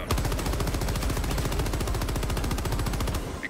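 Sustained rapid machine gun fire in the video game Helldivers 2, a steady dense stream of shots for several seconds, loud and close with no talk.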